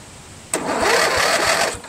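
A Briggs OHV engine on a Craftsman LT1000 14.5 HP lawn tractor, pulled from the trash, cranking after a brief quiet start, with a loud, rapid, uneven chugging of the starter turning over for just over a second.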